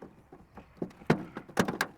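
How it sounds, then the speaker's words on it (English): A plastic beltline window trim clip pops loose from a car door as its tab is pushed down, giving a few short, sharp snaps and clicks close by, with a pair of louder pops near the end. "I want to push down on that little tab to pop this out of the door."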